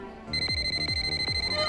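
A telephone rings with a repeating trilling bell, several quick pulses in steady rhythm, loud and close.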